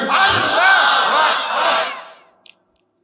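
A large crowd roars a takbir chant, "Allahu Akbar", in unison at a religious sermon gathering in Bangladesh. The single loud, sustained collective shout is close and full, then fades out with a brief clatter at the end.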